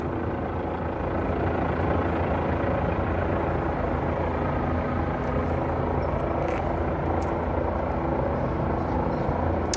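A helicopter flying overhead above a street at night gives a steady, loud rotor and engine drone that holds without a break and masks everything else.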